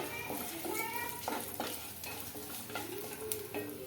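Small pieces of ginger with cinnamon, cloves, star anise and cardamom fry in hot oil for a chicken gravy, making a close, continuous crackling sizzle with light stirring scrapes.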